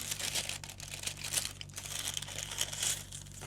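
A plastic packet crinkles close by in irregular bursts, rustling and crackling continuously with no talking.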